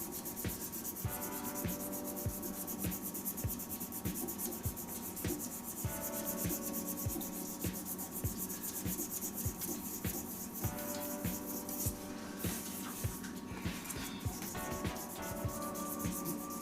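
A resin shaving brush spinning on a wood lathe while spots are rubbed out by hand with 600-grit paper, a continuous rhythmic whirring rub with a steady low hum, close and unbroken.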